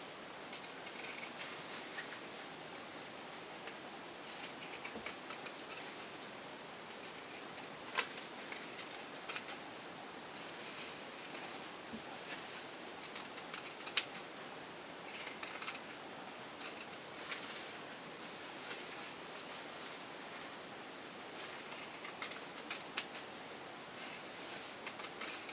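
Scissors snipping loose threads on a handmade cloth pad with a PUL backer, giving faint, scattered little clicks and snips spread irregularly over a steady background hiss, with no talking.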